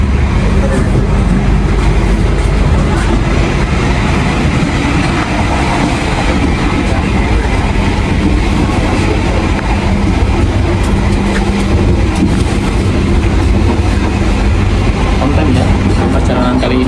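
Ambarawa passenger train running on rails between Surabaya and Bojonegoro, a loud continuous rumble and rattle heard from inside the carriage, steady throughout with faint voices beneath.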